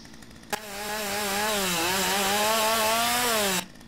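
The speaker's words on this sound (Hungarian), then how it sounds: "így rendesen mozgatni kell a fűrészet" Chainsaw cutting a tree in the video game Lumberjack Simulator: a sharp start, then a loud buzzing whine that rises and dips in pitch as it bites, running for about three seconds before stopping abruptly.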